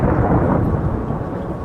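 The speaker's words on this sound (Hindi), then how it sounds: "बारिश तेज थी, मगर कालू कौवा भी बारिश में उड़ना जानता था।" Dense, roaring downpour with a low rumbling undertone, loud and continuous, with no voices.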